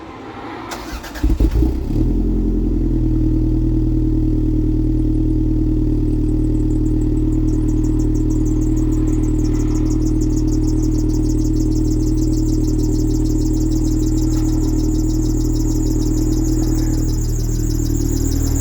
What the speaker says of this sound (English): now it's time to let the car run for about 30 seconds or so